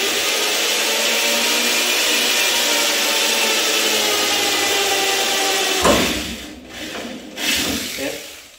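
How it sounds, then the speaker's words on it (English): A power drill whines steadily as it bores through a tonneau cover for several seconds, then cuts out, followed by a few short scraping bursts. "I'm just gonna go ahead and drill this one through."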